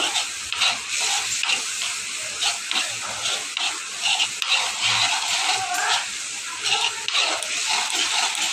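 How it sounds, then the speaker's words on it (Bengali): Water is poured into a hot pan of Bengali fish curry with potatoes and spices, giving a loud, sustained hiss and bubbling sizzle with irregular surges as it spreads. "একটু জল দিয়ে দিলাম"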